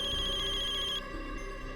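A telephone rings with a steady electronic warble that cuts off about midway, leaving a quieter background hum.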